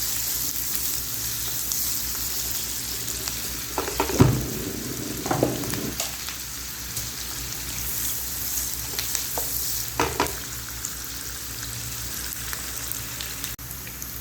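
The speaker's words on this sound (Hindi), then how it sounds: "बस थोड़ा सा प्याज को मैं गोल्डन ब्राउन करूँगी" Onions frying to golden brown in a pan for Lahori chickpeas, a steady soft sizzle with occasional stirring scrapes and clatters, close and alone without talk.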